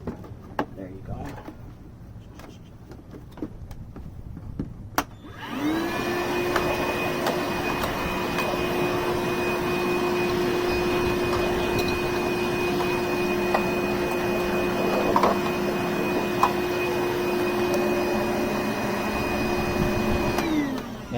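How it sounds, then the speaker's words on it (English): A vacuum cleaner run in reverse as a blower to clean off a Porter Cable folding miter saw starts abruptly with a sharp click, then holds a loud, steady whine with a strong hum for about fifteen seconds before spinning down. "If you stop the vacuum and put the intake on the output, you could kind of use it as a blower."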